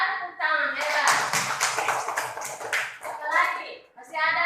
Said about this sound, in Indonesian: Ya, tepuk tangan, hebat.